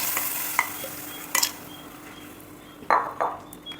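A spice mix is stirred into a frying pan of small onions for a spicy sardine curry, soft sizzling under a few scraping clinks of a utensil against the pan.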